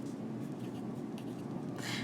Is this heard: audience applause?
no